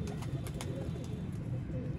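Sialkoti pigeons coo softly in a loft, low murmuring calls repeating amid faint background noise and a few sharp clicks, fairly quiet throughout.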